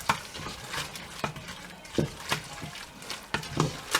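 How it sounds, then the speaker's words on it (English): A spoon works margarine around in a pot for a tuna macaroni and cheese, with soft scrapes and knocks against the metal in an uneven rhythm and only a faint background sizzle. "Now I'm going to stir that up."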